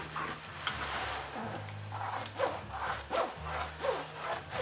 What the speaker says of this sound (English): Now we just cut around the edges. Just trim off all the sharp corners